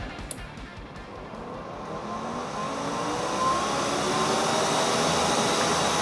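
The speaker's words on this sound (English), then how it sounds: "we should hear some fans kick on" Cooling fans in an off-grid solar power station switch on by thermostat relay and settle into a steady whooshing rush of moving air that swells slightly over several seconds, heard alone after a brief click.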